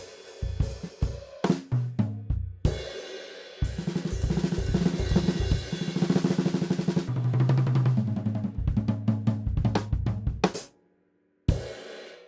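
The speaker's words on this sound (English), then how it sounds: "we're basically going to use the cymbals and we're swiping the accents on the cymbals and playing all the doubles on the snare" Drum kit passage closing a song, with six-stroke rolls that swipe accents across the cymbals and play doubles on the snare, loud and busy. It runs in bursts, then falls silent briefly before a final crash.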